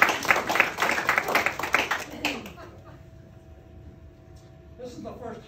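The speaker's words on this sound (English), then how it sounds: "Let's give him a round of applause." An audience at a local history talk breaks into a short round of close, brisk hand clapping for a couple of seconds. It then fades into quiet room hum, and speech follows.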